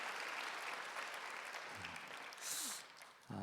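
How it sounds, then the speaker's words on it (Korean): A church congregation at a young adults' worship service claps in thanks, a dense, even wash of applause that swells briefly near the end and then stops. "김유진 변호사님께 감사의 박수 드리겠습니다"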